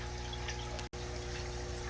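Water draining from a blue jelly shrimp aquarium, heard as a steady close trickling hiss that cuts out briefly midway and then resumes.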